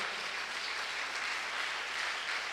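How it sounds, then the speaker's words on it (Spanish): Steady, full applause from a church congregation during a Sunday service, a continuous wash of clapping with no talking over it. "vamos a darle un fuerte aplauso a Dios por la vida de Faustino"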